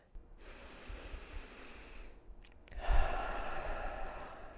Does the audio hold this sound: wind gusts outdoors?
no